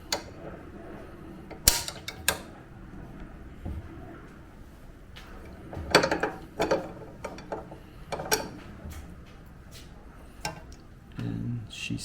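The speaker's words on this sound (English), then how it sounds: "Nuts back on there, and now you take your wrench." A wrench tightens the blade nut on a Delta table saw, producing close, irregular metallic clicks and ratcheting clanks in short bursts separated by quieter gaps, with no speech.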